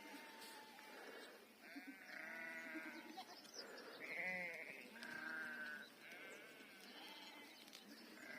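A flock of sheep bleats repeatedly while being herded on a highland pasture, several overlapping calls rising and falling close by, with no talking.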